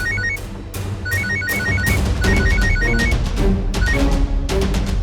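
A telephone rings in repeated electronic bursts of high, warbling tones, loud and close, over a low background hum.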